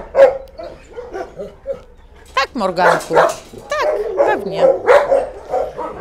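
Dogs bark and yip at an animal shelter, a run of sharp close barks and whines mixed with a person talking over them.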